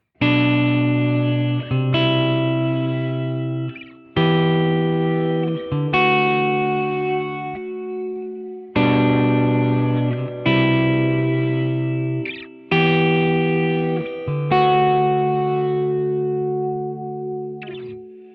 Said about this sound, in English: And then lastly, a reverse reverb.